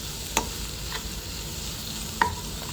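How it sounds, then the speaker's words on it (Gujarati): Spices are stirred and cooked together with crumbled millet rotla in a pan, a low steady sizzle broken by two distinct metallic utensil clinks and a fainter tap between them. "આ બધી જ વસ્તુને સરસ રીતે મિક્સ કરીને આપણે ફરી પાછું પકવી દઈશું"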